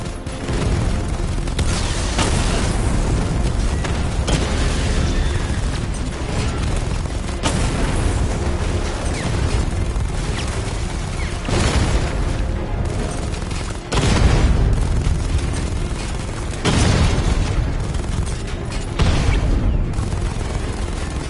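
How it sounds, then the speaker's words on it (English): Heavy booms from the Batmobile's 60mm cannon in Batman: Arkham Knight, loud repeated blasts against armored units, each with a rumbling tail, spaced a few seconds apart over a constant roar of combat. "Your 60mm cannon will penetrate these heavily armored units, but it'll take a few direct hits to destroy them."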